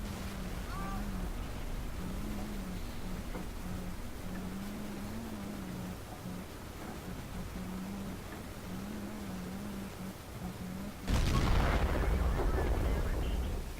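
A heavy ISU-152 tank gun in World of Tanks fires a single loud, booming shot near the end, breaking through a steady droning engine hum that runs underneath.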